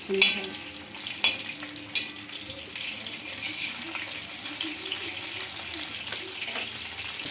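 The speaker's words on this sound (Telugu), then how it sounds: "మనకు అప్పుడు చేప లోపల వరకు బాగా సాఫ్ట్గా ఉంటుంది ఇంకా ఫ్రై కావాలి" Fish frying in a pan gives a steady close sizzle and crackle, with a few sharp clinks of utensils against the pan near the start.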